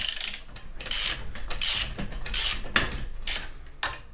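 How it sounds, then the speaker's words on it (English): A spring compressor on a Saab 9-3 car suspension spring is tightened with a ratchet, giving a close, quick series of sharp clicking bursts, about eight in four seconds, with no talk. "I basically give it around 6 rotations on one side, then on the other side, then one side."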